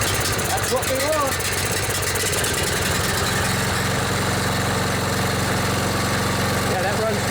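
A Briggs and Stratton Intek small engine with a rebuilt Nikki carburetor runs steadily at about half throttle with the choke on, a loud, even, close mechanical drone with a voice briefly over it.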